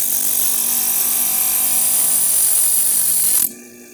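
A small glass grinder whirs steadily as tiny pieces of stained glass are held against its wheel, a loud continuous grinding that stops abruptly near the end, leaving a faint motor hum.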